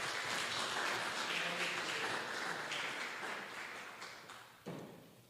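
Church congregation applauding, a faint, dense wash of clapping that gradually fades out, with one brief thump near the end.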